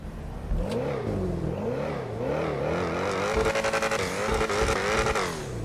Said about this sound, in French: j'ai changé l'échappement, donc je vais vous montrer maintenant le bruit qu'elle fait